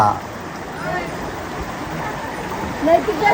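Monsoon rain pours while floodwater rushes through and into a house, a constant broad watery roar, with people talking over it and a louder surge near the end.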